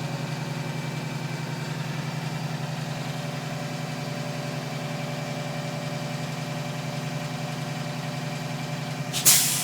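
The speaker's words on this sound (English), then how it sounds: "Now we're listening for the governor to be sure that it's letting go of the excess air in the system" A bus engine holds a steady, droning high idle throughout. Near the very end comes a short, sharp burst of hissing air as the air brake governor vents excess pressure from the system.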